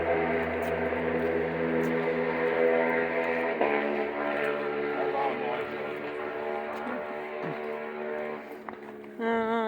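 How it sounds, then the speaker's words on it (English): A motorcycle runs along a trail, its engine a steady, fairly loud droning hum with layered tones that holds for the whole stretch and shifts slightly near the end. "That's a motorcycle on top of the trail."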